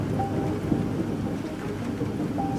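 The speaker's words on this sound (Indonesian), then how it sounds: "Seketika petir menyambar dan Kiran pun tidak sadarkan diri." Steady heavy rain with a low rumble of thunder rolling underneath throughout, a continuous dense wash of sound with no voices.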